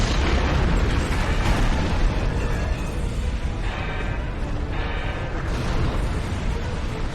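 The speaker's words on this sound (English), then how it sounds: "Detonating charges." Loud, sustained rumbling explosions of detonating charges in the Star Trek Online game, a continuous heavy roar with several sharper bursts layered over it throughout.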